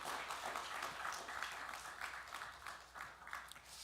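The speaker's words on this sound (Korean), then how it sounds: "우리 잘 다녀오시도록 박수로 하겠습니다" During a Sunday church service, the congregation breaks into a soft, steady round of applause with a distant, roomy quality, sustained for a few seconds without talk.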